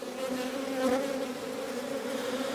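Honey bees buzz inside an open hive crowded with brood, a dense, steady hum with a slight swell partway through, close and continuous with no voices.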